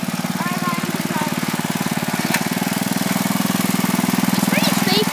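A small 5 hp tractor engine runs continuously while driving, pulling a homemade trailer, with a loud, steady, close rumble and a fast, even chug throughout.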